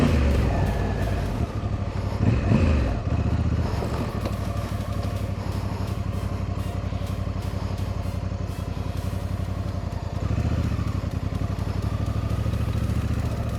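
A Honda adventure motorcycle, either an African Twin or an XL750 Transalp, is ridden with a steady, loud engine drone and some brief throttle changes. No voices are heard over it.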